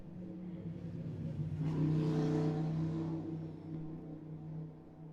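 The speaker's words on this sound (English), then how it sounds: "somebody's using their motorcycle outside" A motorcycle revs outside, a steady engine drone that swells to a louder peak in the middle and then eases off, heard alone with no talking.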